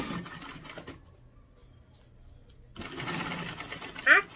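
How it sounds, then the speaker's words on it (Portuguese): Sewing machine stitching seams on a rounded toiletry bag, short whirring bursts separated by a quiet pause, with someone talking between runs. "vou agora bater uma costurinha aqui unindo"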